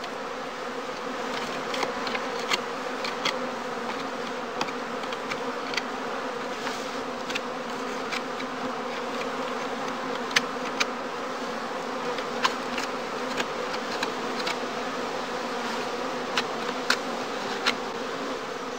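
Honeybees hum steadily in a dense, continuous drone at the entrances of straw skep hives in a heath apiery, with individual bees zipping past close by now and then; no voices.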